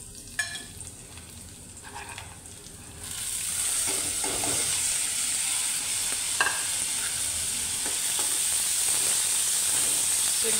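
Garlic, coriander and Kolhapuri masala with turmeric and salt hit hot oil in a pan for a dry vegetable tempering, a quiet start giving way to a loud, continuous sizzle with occasional stirring clicks.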